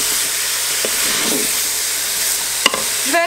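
Lamb simmers in sauce for loubia as it is stirred. A steady close hiss and bubble carries a few soft stirring scrapes and a brief sharp clink near the end.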